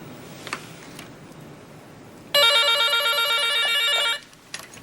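A telephone bell rings in one loud, sustained trill lasting nearly two seconds, breaking into a quiet room after a brief exchange of goodnights, with faint background hiss before and after the ring.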